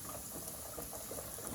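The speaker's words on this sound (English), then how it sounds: "And look at them fry." Chicken pieces frying in hot oil for a fried chicken sandwich, a steady close bubbling and crackling sizzle that holds level throughout without any voices.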